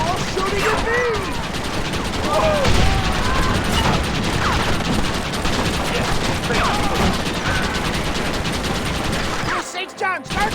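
Heavy gunfire in the video game Red Dead Redemption: rapid, continuous volleys of close shots crackling almost without pause, mixed with shouting voices and a brief lull near the end.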